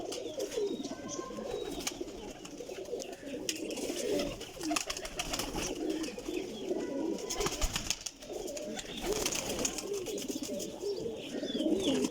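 Golden pigeons cooing softly in a loft, low repeated coos with faint chirps from other birds against a busy background.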